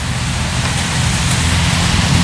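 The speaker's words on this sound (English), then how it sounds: "hopefully it doesn't rain out because it is raining" Rain falls at an outdoor political campaign rally as a steady, dense hiss of drops that stays fairly loud and even throughout, with no voices.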